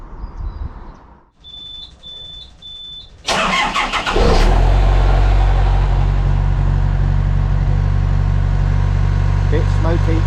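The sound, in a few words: narrowboat engine starting and running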